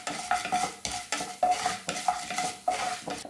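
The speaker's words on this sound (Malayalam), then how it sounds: "ഇനി നമുക്കിതൊന്ന് ഇളക്കി കൊടുക്കാം." A spoon stirring chana dal and urad dal frying in a pan, rhythmic scraping strokes about twice a second with light metallic clinks and a soft sizzle underneath, close and with no talking.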